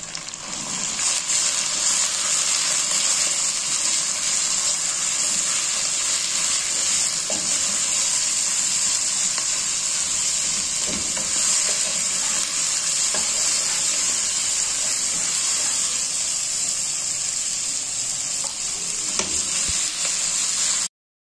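Half a kilo of beef mince hits light golden-brown frying onions, giving a loud, steady sizzle that holds for about twenty seconds, with faint stirring scrapes and no talk.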